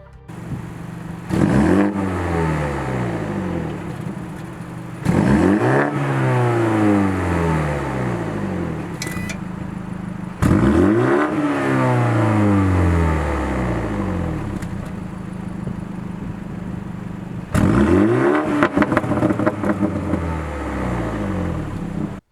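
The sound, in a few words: car exhaust revving in sport plus mode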